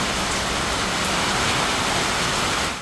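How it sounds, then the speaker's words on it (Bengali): Steady rain falls over Dhaka, a dense, even hiss of drops that stays loud and unbroken from start to finish with no voices. "রাজধানী ঢাকায় আজও সকাল থেকে থেমে থেমে বৃষ্টি ঝরছে"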